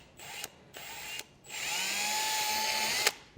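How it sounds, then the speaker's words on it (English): Power drill boring a pilot hole with a small bit while installing a trailer brake controller on a 2023 Jeep: two short whirring bursts, then a longer steady run that speeds up and stops, close and clear with no talking. "I'm first going to start with the small pilot bit."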